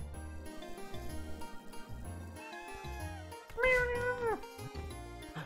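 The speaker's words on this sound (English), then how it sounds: "Cat! Cat!" A cat meows in a Celeste mod game, a clear rising-then-falling meow near the end, over soft game music and background chiming.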